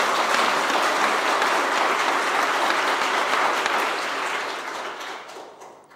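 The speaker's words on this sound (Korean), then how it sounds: "이런 집에 살고 싶으시면 박수로 하나님께 한번 영광 돌려버리세요" Sustained, dense applause from a church congregation fills the space at a steady level for several seconds, then gradually thins and fades away near the end, with no voices on top.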